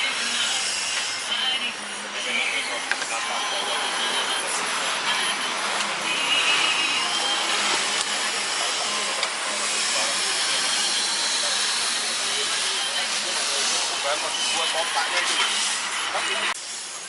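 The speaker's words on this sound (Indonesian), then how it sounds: "Bakar di teflon." Bread toasting on a Teflon pan at a roti bakar street stall in Salemba, Jakarta: a continuous bright hiss and sizzle that holds steady for the whole stretch, with faint background bustle.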